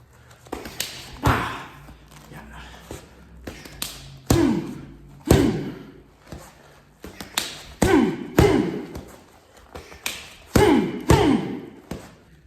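A pocket stick striking a training pad during martial arts practice, giving sharp, close thuds, often in quick pairs, repeated about a dozen times with short gaps.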